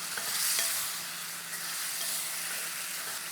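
Chicken stir-fried with soy sauce in a clay pot sizzles steadily, a loud, bright frying hiss with stirring scrapes and no talking.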